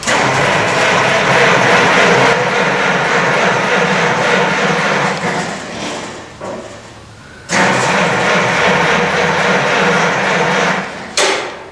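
A big Minneapolis-Moline G6 propane tractor on race tires is cranked loudly in two long bursts and a short third one, the engine chugging without catching, with no talking.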